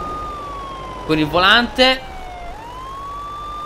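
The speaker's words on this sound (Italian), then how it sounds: "Abbiamo pure le sirene, raga." An ambulance siren in the Euro Truck Simulator 2 driving game, a steady electronic wail sliding down and back up, with someone talking briefly over it.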